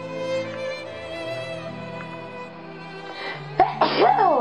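A sudden sharp sneeze bursts out near the end over a low, steady tonal background hum.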